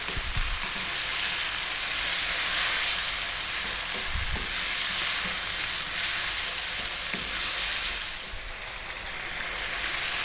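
Chopped ripe tomato sizzles in a pan for broccoli cream pasta sauce, a loud continuous frying hiss with occasional low stirring knocks, easing slightly near the end.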